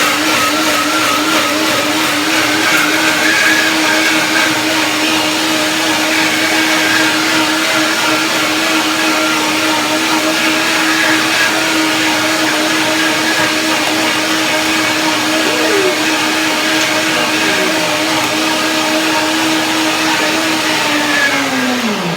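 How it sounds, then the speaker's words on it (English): A blender runs nonstop at high speed, whirring loudly and steadily as it purees peas and zucchini into a creamy mix, its pitch holding constant with a slight dip at the end. "The second blending will make it even creamier."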